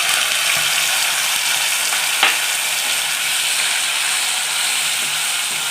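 Steady, broadband sizzling of ground red chutney added to a hot pan, continuous throughout, with one brief sharper crackle partway through.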